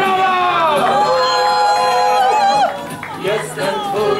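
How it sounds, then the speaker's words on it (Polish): Crowd in the market square of Wolbrom during a walking pilgrimage, cheering with loud whoops and shouting voices that continue steadily, then dip before rising again. "Mieszkańców Wolbromia, wielkie brawa!"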